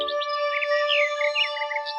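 Small birds chirp and tweet in quick, bright bursts over a steady high electronic tone, a continuous chatter of calls with no voices.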